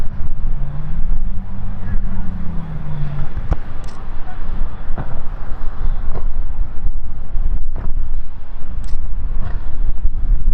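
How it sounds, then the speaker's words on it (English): Small motorboat bouncing over sea waves off a coastal clifftop, heard as a steady engine drone mixed with heavy wind buffeting the microphone and sharp intermittent thumps. "I could hear that boat before I could see it. It sounded like gunshots going off. It's jumping over the waves."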